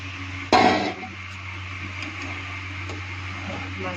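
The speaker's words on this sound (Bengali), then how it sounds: "আমি এখন মাছগুলো সব ছেড়ে দেব" Fish pieces drop into a pot of simmering curry with potatoes: one sudden, loud clattering splash, then a steady low hum and faint bubbling afterward.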